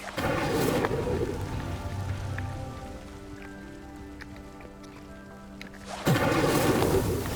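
A lightning storm in the video game Hogwarts Legacy, with steady rain pattering on surfaces and loud, rumbling thunder-like bursts at the start and again near the end, while quieter tonal game sounds fill the middle.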